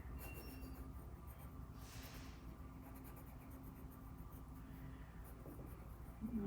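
A pen draws stick figures on paper in faint, close scratching strokes, soft and intermittent over a quiet background.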